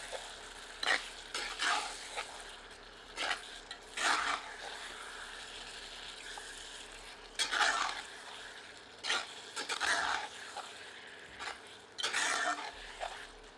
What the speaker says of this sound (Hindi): तत्पश्चात इसमें कटा हुआ टमाटर सम्मिलित करते हैं और इसे सामग्री में मिला देते हैं